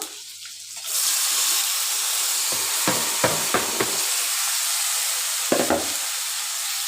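Mixed vegetables hit a pan of already-fried onions for a pangas fish vegetable fry, a loud dense sizzle that flares suddenly after a second and keeps hissing, with a few clattering stirs partway through.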